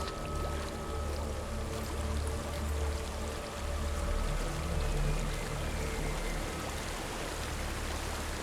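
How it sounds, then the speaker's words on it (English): Steady rushing water from a waterfall in the game Hellblade: Senua's Sacrifice, a broad continuous roar with a low rumble underneath, faint and unbroken. "There's a waterfall."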